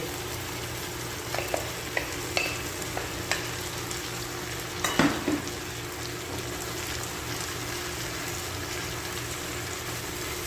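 Bitter melon (ampalaya) sautéing in a pan, a steady soft sizzle with a few sharp clicks and a brief scraping stir of the spoon partway through, faint and without talk.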